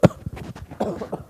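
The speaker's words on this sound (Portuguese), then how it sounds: "Assim tem que tossir." A single deliberate demonstration cough during a church talk about hygiene, loud and close at the start, followed by quieter breathy vocal sounds.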